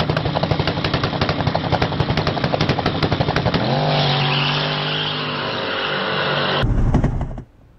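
Twin-turbo LS-powered Chevy S-10 pickup launching in a street drag race, a loud, sustained engine roar with rapid crackling, shifting into the next gear around midway, then cutting off abruptly near the end.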